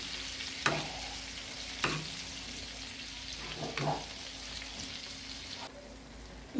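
Goat liver masala with tomato paste frying on a tawa, a steady close sizzle with a few sharp spatula scrapes and stirs at intervals.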